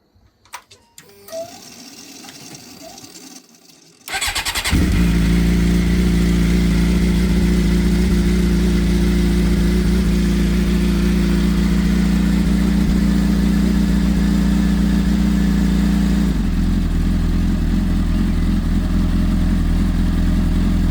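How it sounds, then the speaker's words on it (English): A Suzuki GSX-R 750 track bike cranks briefly and fires up, then settles into a loud, steady idle that holds close by for the rest of the clip, with a slight shift in tone near the end. "So I guess now what we do is I start the bike."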